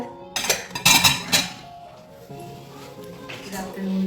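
Dishes being washed clatter and clink in a burst of sharp metallic knocks, then quieter scraping and handling noises follow, with a voice faintly underneath.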